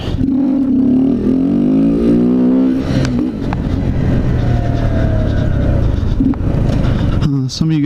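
A Kawasaki Z125 motorcycle with its quieter stock exhaust revs during wheelie practice, a steady droning engine note rising and falling in pitch before dropping off near the end, loud and close throughout.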